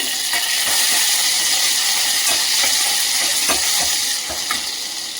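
Curry leaves hit hot oil while making a green gram (hesaru kalu) palya, giving a loud, steady crackling sizzle with sharp pops throughout, close up and with no voices.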